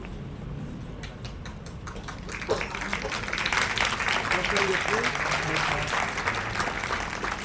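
An audience at an award ceremony of Gujarat's state and national award-winning teachers' federation in Gandhinagar breaks into applause that swells after a few seconds into a sustained, dense clapping, with a voice speaking over it early on.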